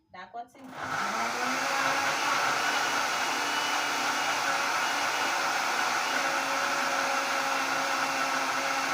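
A kitchen blender whirs loudly and steadily while grinding Haitian Creole epis seasoning, starting up after a brief spoken word and holding a constant high-pitched roar for the rest of the time.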